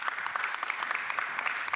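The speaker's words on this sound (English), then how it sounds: "Yes, feel free to clap." Audience clapping at a conference session, a dense patter of many hands at moderate level, steady throughout without voices.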